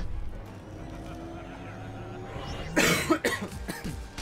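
One person coughs a few times in short harsh bursts over ongoing video game sound effects and background music, close to the microphone.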